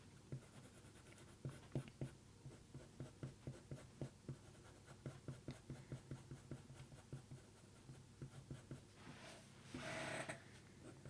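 Colored pencil scratching on paper while filling in leopard spots, a close, quiet run of quick rhythmic strokes, with a brief louder rustle near the end.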